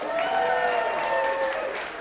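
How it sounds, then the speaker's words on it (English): Wedding guests applauding during reception dinner speeches, steady crowd clapping throughout with voices and cheering mixed over it. "For all the way from Coventry, give them a round of applause, please."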